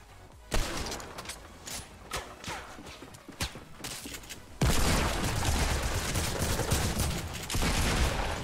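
Video game gunfire crackles in scattered shots and bursts, then swells into a dense, sustained fusillade for the second half, loud and continuous with no talking.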